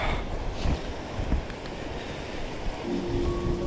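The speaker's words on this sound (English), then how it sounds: "It's a little windy though." Strong wind buffets the microphone on a rocky Japanese island coast, a steady broadband roar with gusty swells, surf washing underneath and a faint tonal hum late on.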